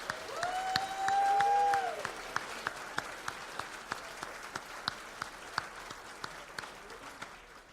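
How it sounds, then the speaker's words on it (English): Audience at a chamber of commerce annual meeting applauds as newly appointed and continuing board members stand; a whistle-like tone sounds early, then a steady mid-level patter of clapping continues with sharp individual claps throughout. "Round of applause, please."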